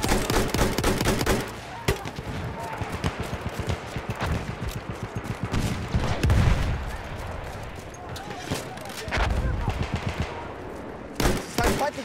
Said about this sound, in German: Das ist ein feindlicher Schuss